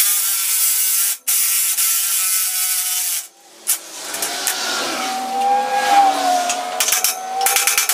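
A hand ratchet removes nuts from a leaf-spring shackle on a trailer axle, giving loud, close, rapid clicking bursts broken by short pauses, followed by scraping, squeaking metal turns and more quick ratcheting.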